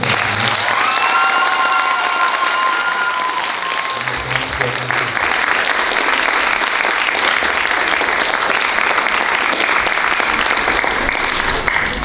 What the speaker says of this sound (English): Can we hear a huge round of applause for students Reese, Sophia, and Diego on the first day?